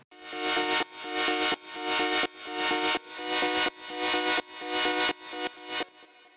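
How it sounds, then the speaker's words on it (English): An electronic music track runs with a sidechain compressor, its sustained chords and synths pumping in a steady rhythm: each beat ducks the sound sharply, then it swells back up, repeating evenly throughout. "And with the sidechain enabled it sounds like this."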